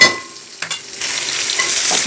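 Chicken pieces are stirred into hot oil for a chicken curry: a loud scrape at the start, then a quick stirring stroke, followed by a strong, close, steady sizzle that swells and holds until the end.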